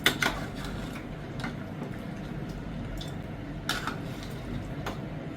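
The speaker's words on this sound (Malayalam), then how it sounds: "ഇനി നമുക്കിത് അരപ്പും ഇതുമെല്ലാം കൂടെ ഒന്ന് മിക്സ് ചെയ്യാം" A spoon stirs ellu (sesame) curry together with ground paste in a pot, giving a soft steady background hiss punctuated by a few sharp scraping clicks of utensil against metal.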